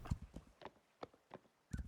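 A horse walks along a sandy beach in the video game Rising World, its hooves making soft, irregular clip-clop steps that are faint and fairly close.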